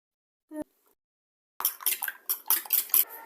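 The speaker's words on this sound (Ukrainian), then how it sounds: "Ми розмішуємо ложечкою." A spoon stirs sour cream and grated cheese together in a bowl, a run of close, quick clinks and scrapes against the dish after one brief knock earlier, with no talking.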